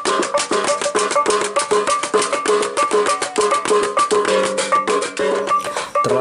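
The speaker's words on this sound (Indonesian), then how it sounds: "Terlalu keras ini bunyi instrumen alat musik tradisional Golamba ya" Traditional Golamba instruments play loudly at a Ra'a weka cultural event, a dense, steady percussive ensemble with rapid repeated strikes and sustained tones throughout, continuous and close.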